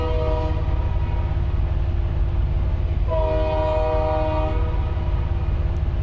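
A switcher locomotive sounds its horn, a loud sustained multi-tone blast beginning partway through and holding for over a second, over a heavy, constant low engine rumble nearby.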